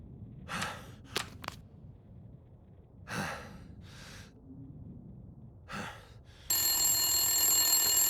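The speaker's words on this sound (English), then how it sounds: "Phone ringing." An old-style telephone bell rings in short bursts in the survival game The Long Dark, alternating with quiet breathing and gasps, before a loud steady noise fills the last seconds.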